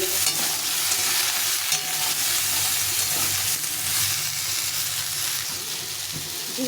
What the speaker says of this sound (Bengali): অল্প করে লবণ হলুদ দিয়ে সবজিটা একটু ভেজে নেব।